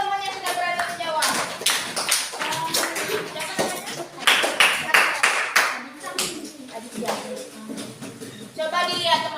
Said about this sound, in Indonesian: Coba beri tepuk tangan dulu untuk teman yang sudah berani menjawab.